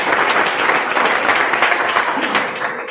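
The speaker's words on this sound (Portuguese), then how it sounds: "Aplauda o Rei, unigênito do Pai." Church congregation applauding during a Sunday worship service, a dense, steady wash of many hands clapping that holds at full strength for the whole stretch.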